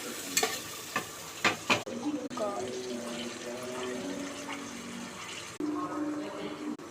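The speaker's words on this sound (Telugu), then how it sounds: "తిప్పుకోవాలి." A spoon stirs food in a hot cooking pan for chicken pulao and curry, with a few quick scraping strokes followed by a steady sizzle and bubbling, close up and without talk.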